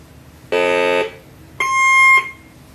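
Two sustained electronic beeps, each about half a second, the second higher and slightly longer, loud and clear against a quiet background.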